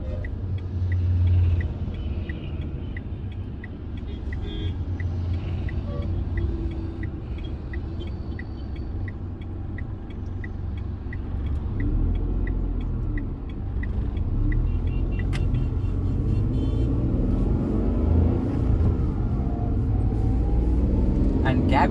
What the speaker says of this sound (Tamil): இப்போ வந்து பார்த்தீங்கன்னா நம்ம ஒரு யூடர்ன் பண்ண போகிறோம்